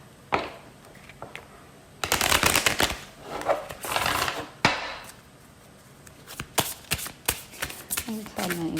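Oracle cards are shuffled in bursts of riffling, papery flutter with taps and clacks between them, near and fairly loud.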